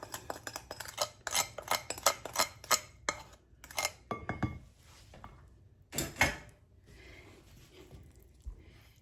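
Muffin batter mixed by hand for cranberry orange muffins, a sugar mixture being worked into flour with a wooden spoon or spatula, giving a run of close, quick scraping knocks against a bowl, then sparser clunks and taps.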